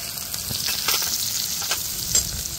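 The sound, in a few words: chopped onions frying in hot white oil in a wok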